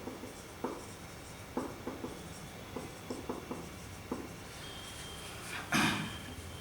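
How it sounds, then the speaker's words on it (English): A pen scratches on paper in short, irregular strokes, noting a taxpayer's residential status during an accounting lecture, with a louder scrape at the end. "Okay, so Mr. Kumar, first of all we write it down."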